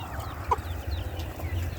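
Soft clucking from a mother hen with faint peeps from her three-day-old chicks, brief and close over a low background hum.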